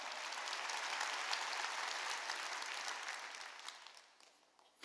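Church congregation applauding during a Wednesday worship service, a broad, even wash of clapping that holds steady before thinning and fading near the end, with no voices over it.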